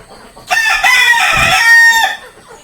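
A Kappiri native-breed rooster crows once, loud and close, a long drawn-out harmonic call lasting about a second and a half over quiet background.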